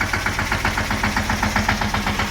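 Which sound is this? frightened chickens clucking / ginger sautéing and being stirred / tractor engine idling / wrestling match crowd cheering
tractor engine idling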